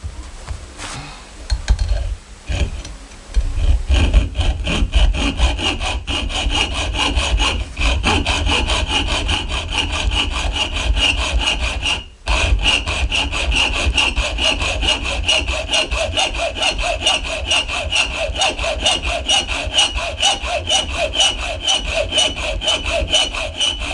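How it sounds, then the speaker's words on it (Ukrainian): Continuous rhythmic rasping of a hand hacksaw cutting through a threaded rod, close and loud, with a brief pause midway. "я скоріше відріжу звичайною ножовкою."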